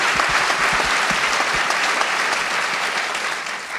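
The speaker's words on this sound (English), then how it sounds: "We've got round of applause." Steady, dense applause from a sizable theatre audience at a post-show Q&A, clapping continuously and fading slightly toward the end.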